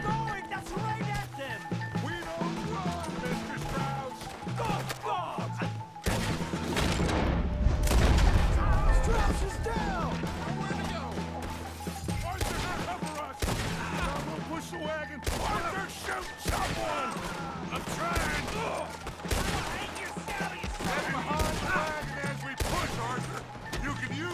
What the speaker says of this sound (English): I've got to fucking shoot up this entire town.